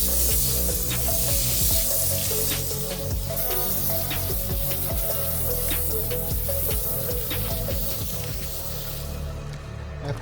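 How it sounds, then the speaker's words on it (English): Steady, loud water spray hisses across a car body panel as foam soap is rinsed off, continuous and close for the full stretch, with brief splashing bursts and no talking. "After foaming the entire vehicle and letting it sit for a few minutes, I rinse the soap off."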